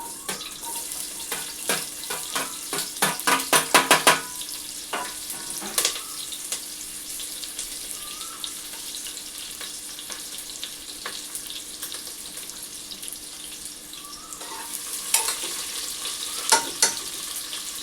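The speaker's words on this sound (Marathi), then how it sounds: "बघू शकता आपला कांदा हा फ्राय झालेला आहे" Onion frying with curry leaves, cumin and mustard seeds for soya bean biryani gives a steady close sizzle, with bursts of rapid crackling pops near the start and scattered sharp spatters later, and no talking.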